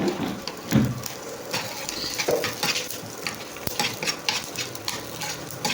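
Mustard seeds, cumin, coriander seeds, garlic and dry red chillies frying in a little oil for okra chutney, a close, steady sizzle with scraping stirs and spoon clinks against the pan.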